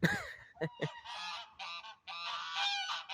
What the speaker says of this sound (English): Geese hear me talking, so now they gotta talk.